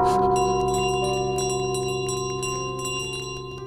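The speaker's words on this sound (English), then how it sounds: "What's up with this golden bell, man?" A golden bell in Untitled Goose Game rings out with one loud, clear struck tone whose harmonic overtones sustain and slowly decay, with a faint patter of game sounds behind it.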